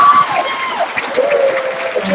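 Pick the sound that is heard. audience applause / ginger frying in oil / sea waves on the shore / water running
audience applause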